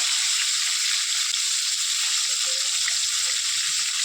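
Rohu fish pieces fry in a pan with a steady, close sizzling hiss that holds level throughout, with faint low clinks and rustles near the end.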